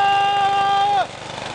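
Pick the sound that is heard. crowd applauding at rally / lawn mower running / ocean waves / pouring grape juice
lawn mower running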